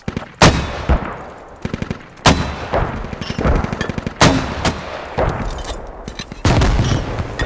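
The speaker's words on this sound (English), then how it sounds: "We have mortars." A mortar barrage in the video game Squad: heavy explosions land in irregular bursts, each a sharp loud crack with a rumbling tail, mixed with rapid clattering gunfire between the blasts.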